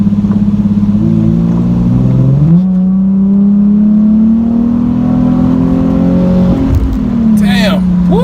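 Nissan 370Z with its muffler deleted, a loud raspy exhaust droning and climbing steadily as the car accelerates, heard close from inside the cabin with a brief gear change and a voice speaking near the end.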